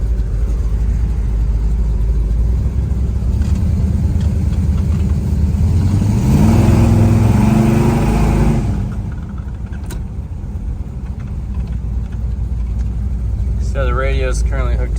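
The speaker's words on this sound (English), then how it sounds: "We're in our carousel red 1969 Pontiac GTO." A carousel red 1969 Pontiac GTO cruises along with a steady engine rumble. It swells into a louder rev for a couple of seconds before settling back to a lower drone.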